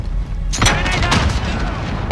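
A grenade in Call of Duty Modern Warfare detonates with a sudden heavy boom that rolls into a short rumbling tail, loud and close.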